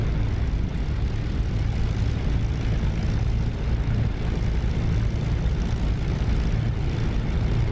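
P-51 Mustang taxiing in DCS, a steady loud droning piston engine and propeller at an even pace throughout, with no voices.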